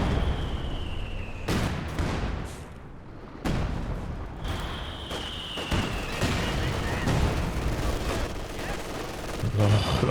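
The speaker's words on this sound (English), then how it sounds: "Conscripts actually getting a couple nice bursts in there." Bursts of small-arms fire crackle through a Company of Heroes 2 battle, sharp volleys and rattling rifle shots over rumbling explosions and a steady din of combat, with a voice speaking over parts of it.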